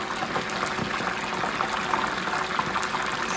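Chicken wings sputter in a pot of plenty of hot oil, a steady, dense bubbling and sizzling hiss that stays even and close throughout with no talking.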